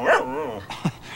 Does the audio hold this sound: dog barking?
yes